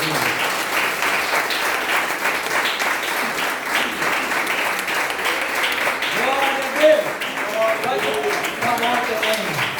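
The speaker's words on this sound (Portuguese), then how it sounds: "Se você quiser aplaudir ao Senhor," A church congregation applauds during a sermon, a sustained wash of many hands clapping that fills the room for the whole stretch, with a voice speaking over it near the end.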